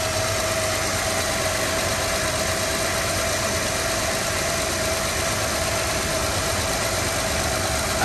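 A 2006 Honda Pilot with a 3.5 liter V6 and automatic transmission idles steadily, a constant close-up engine drone with a faint vibrating rattle and no talking.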